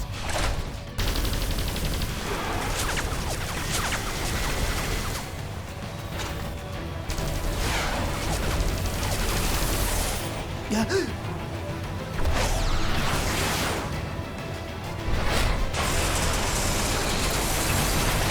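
Missile blasts and gunfire from Xenoblade Chronicles X crash and whoosh in dense, loud bursts, with rattling shots and heavy impacts arriving in waves and brief dips in between.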